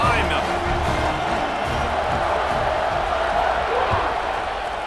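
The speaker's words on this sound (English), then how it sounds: "this crowd now ready to get behind them" Stadium crowd in EA Sports College Football 26 cheers at a kickoff, a steady, dense roar that holds at an even level throughout with no distinct voices standing out.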